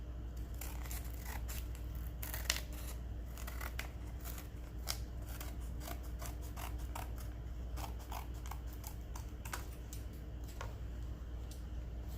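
Scissors snip repeatedly through paper while trimming excess from the pages of a handmade Christmas journal, a steady run of close, crisp cuts over a faint hum, with no talking.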